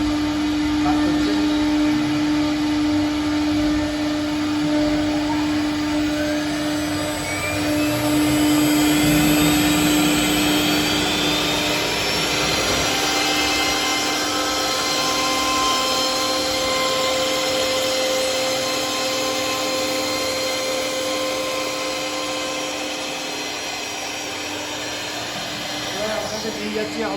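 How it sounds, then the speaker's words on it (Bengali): A CNC machine runs in a furniture workshop, a continuous high mechanical whine and hum with steady tonal lines and some slowly shifting pitch, loud and sustained, with a voice speaking intermittently. "ওটা দেখুন, এই হচ্ছে সিএনসি মেশিন"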